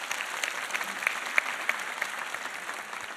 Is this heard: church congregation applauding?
yes